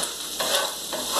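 Brussels sprouts being turned in a pot with a little liquid, two quick scraping stirs over a steady sizzle, close and brief.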